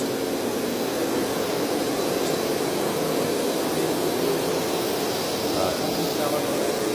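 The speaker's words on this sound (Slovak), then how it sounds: "ako funguje táto umývacia mašinka, SC100. Takto stlačím gombiček a idem." A Nilfisk SC100 floor scrubber running on 230 V mains, washing and vacuuming a floor with a steady, loud whooshing roar of suction and motor noise that holds constant throughout.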